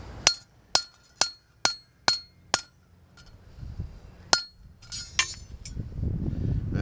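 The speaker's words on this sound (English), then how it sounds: "I'm going to keep my cold chisel right there and break that off." A hammer strikes a cold chisel held against a steel anvil to cut metal for a forged cookset: about six sharp, ringing blows in an even rhythm, then a pause with rustling and a few scattered strikes.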